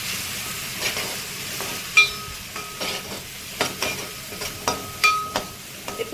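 Turmeric and coriander powder being stirred in a frying pan for a potato and capsicum masala curry, with a spoon scraping and knocking the pan in irregular taps over a soft, steady sizzle, close and fairly quiet.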